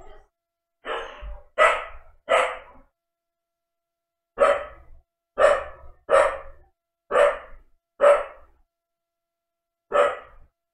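A dog barks indoors in a house, about ten sharp, close barks in short bursts of two or three separated by brief silences.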